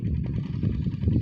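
A small Sonalika mini tractor engine runs steadily nearby with a low, even, chugging rumble and no break.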